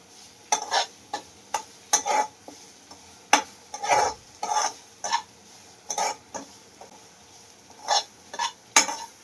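Ragi flour mixture stirred and roasted in a pan, with repeated scraping and clinking strokes in an uneven rhythm, close and fairly loud, with no voices.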